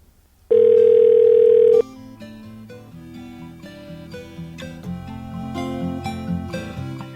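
After a caller hangs up, a telephone line gives a loud, steady electronic tone for about a second, then quieter layered tonal beeps and notes carry on to the end.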